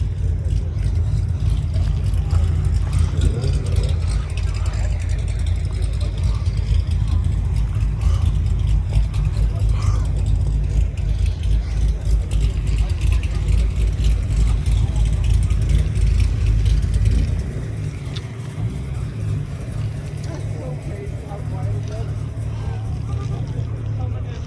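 Steady roar of passing traffic, Corvettes and a Ram TRX among the cars, a continuous loud engine and tire rumble with background chatter.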